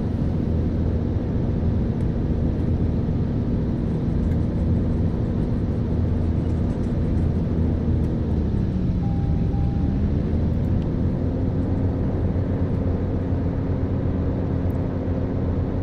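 A Cirrus SR20 piston engine in a flight simulator drones steadily and loudly throughout, its pitch sagging briefly partway through during a magneto check before recovering to the same even hum.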